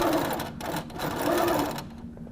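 A Little Rebel sewing machine stitching around the corner of a quilt, rapid mechanical whirring in short bursts with brief pauses between runs, close and clear.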